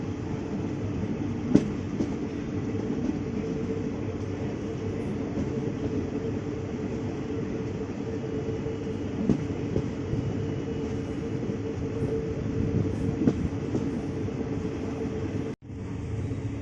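A passenger train, train 234, rumbles steadily at Hin Dat station in Thailand, a low continuous drone with occasional clanks and a sharp knock near the end.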